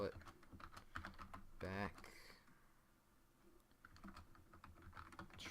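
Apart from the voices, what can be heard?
typing on a loud computer keyboard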